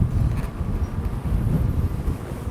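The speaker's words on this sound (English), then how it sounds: "Boy, it's windy." Wind blowing across a swamp park, a steady, loud, low buffeting rush that gusts and buffets the microphone throughout, with no speech.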